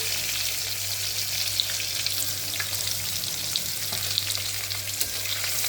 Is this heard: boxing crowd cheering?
no